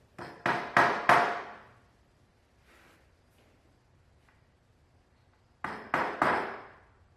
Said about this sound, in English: I then drove nails at each station.